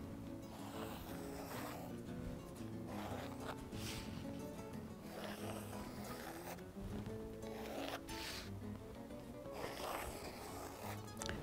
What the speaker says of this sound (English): So I'm just using my pencil.